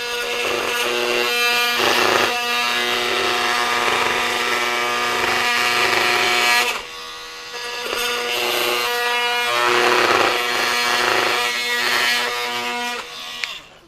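A Milwaukee M18 FUEL oscillating multi-tool (2836-20) cutting into wood, a loud buzzing, high-pitched whine under load in two long passes separated by a brief quieter pause.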